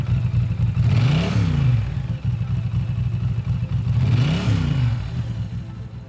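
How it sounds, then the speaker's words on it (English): A Norton Commando 961 motorcycle with a hand-finished exhaust revs twice, each blip rising and falling in pitch over a steady rumbling idle, loud and close with no talk. "this engine and our handcrafted and hand-finished exhaust system have been designed to deliver that distinctive Norton soundtrack"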